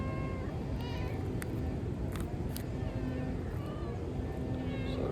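Stray cats meow repeatedly and close by as they are fed tuna and whitefish, several short cries overlapping a steady low background hum, with faint speech now and then.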